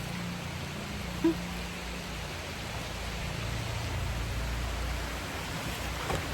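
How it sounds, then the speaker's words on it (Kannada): Rainfall outdoors while laundry is hung out to dry, a steady broadband hiss of moderate loudness, with a faint low hum underneath and one brief tap. "ಮಳೆ ಬಂದೇ ಬಿಡ್ತು"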